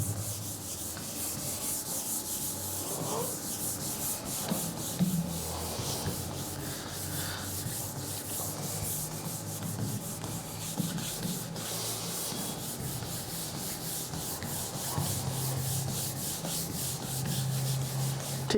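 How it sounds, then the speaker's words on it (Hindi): Steady rubbing of a board eraser wiping writing off a board in a classroom, continuous close scrubbing strokes with no talking. "अच्छा चलिए ये रब कर देता हूँ मैं"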